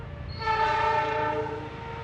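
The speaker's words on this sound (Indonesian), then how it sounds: "pas kereta api." Passing train sounding its horn near a rural village road, a sustained loud horn blast over a low rumbling engine and rail noise, fairly near.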